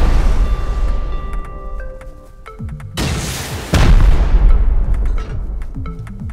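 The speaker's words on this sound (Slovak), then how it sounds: "Strieľam raketu do okna." Rocket launcher in the survival game Rust firing and exploding against a window during an online raid, a sharp loud blast followed by a second heavy boom with rumbling debris, amid other in-game gunfire and sounds.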